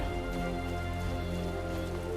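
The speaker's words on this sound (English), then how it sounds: "And it started to rain." Steady rain from the weather effects in the video game Final Fantasy XIV falls as a dense, even hiss of drops on the ground, loud and unbroken, with a low ambient hum underneath.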